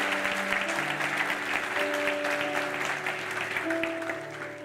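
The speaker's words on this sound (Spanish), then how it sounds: "¿Quieren darle un aplauso al Señor" A church congregation applauds in a steady, dense wash of clapping that lasts throughout, with sustained keyboard or organ tones shifting pitch underneath.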